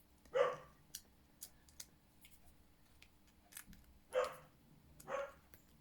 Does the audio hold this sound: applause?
no